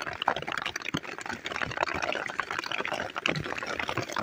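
Floodwater from a heavy rain surges around a person leading cattle, a busy continuous rush and splash close by, with faint voices beneath it.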